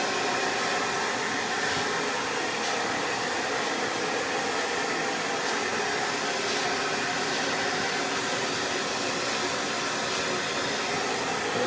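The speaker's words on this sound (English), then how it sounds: "Alright, so I'm taking a vest brush and just blow drying everything up and over." A hair dryer blows steadily and loudly while a vent brush lifts hair up and over for a modern men's mullet style, a constant close airy roar with no break and no talk.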